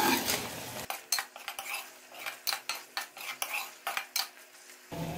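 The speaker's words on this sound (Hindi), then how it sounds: "अब थोड़ा सा हम इसको मजीद 2 से 3 मिनट भूनेंगे।" Chicken malai handi is stirred and fried in a pot. A utensil scrapes and clacks against the metal in an irregular rhythm of sharp knocks over a faint background sizzle, heard close with no talking.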